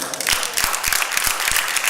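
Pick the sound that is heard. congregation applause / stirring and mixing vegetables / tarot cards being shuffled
congregation applause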